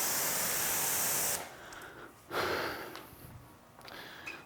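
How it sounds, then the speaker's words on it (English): Loud, hissing water spray rinsing bugs off the front of a car for about a second and a half, then stopping, followed by a shorter spurt and softer trailing sprays close by. "I'm just spraying off the front here just to sort of loosen up the bugs"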